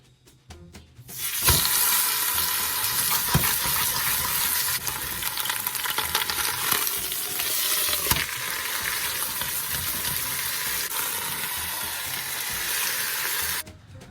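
A 4-pound chuck roast sears in a hot pan on the stove with a loud, steady sizzle that starts abruptly, holds close and even for over ten seconds, then cuts off.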